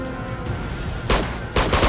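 Two sharp gunshot cracks in Uncharted 2: Among Thieves, spaced about half a second apart, loud and close over steady game background noise.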